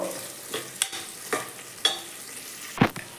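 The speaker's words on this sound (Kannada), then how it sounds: "ಜವಳಿಕಾಯಿನ ಎಣ್ಣೆಯಲ್ಲಿ ಚೆನ್ನಾಗಿ ಫ್ರೈ ಮಾಡ್ಕೋಬೇಕು" Broad beans fry in oil inside a pressure cooker, with a gentle sizzle under several scraping stirs at irregular intervals and a louder clank of the utensil against the pot near the end.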